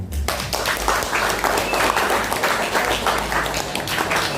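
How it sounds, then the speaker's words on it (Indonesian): Audience applause at a regular community meeting in Sukoharjo, a lively crowd clapping steadily and loudly throughout, with scattered voices mixed in. "Tepuk tangan dong."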